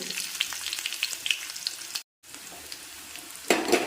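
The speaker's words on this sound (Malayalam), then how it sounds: "അപ്പം നമ്മളിതിലേക്ക് ചെറിയ ഉള്ളി കടുക് താളിക്കാനായിട്ട് ഇട്ട് കൊടുക്കുവാണ്" Small onions, mustard seeds and chili crackle and sizzle in hot oil for a Kerala tempering, a steady close frying hiss broken by a brief silence and then a louder burst of spattering near the end.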